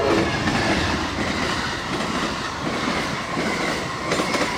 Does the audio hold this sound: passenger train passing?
yes